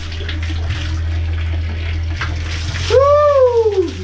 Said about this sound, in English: Yep, that's how we take a shower.